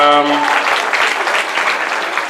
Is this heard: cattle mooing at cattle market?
no